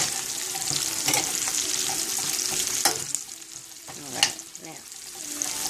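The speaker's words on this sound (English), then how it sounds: "Pine nuts going in." Pine nuts fry in a pan, giving a steady crackling sizzle broken by a few sharp clinks and scrapes of stirring, close up, with no talking.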